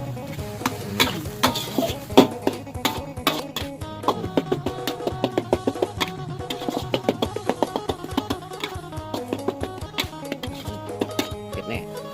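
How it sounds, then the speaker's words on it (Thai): Isaan-style tilapia larb stir-fried over low heat, with busy rapid clinks and scrapes of a utensil against a pan plus a faint sizzle, close, under someone speaking. "คลุกเคล้าให้เข้ากันนะครับ ผัดไฟอ่อนๆเนาะ"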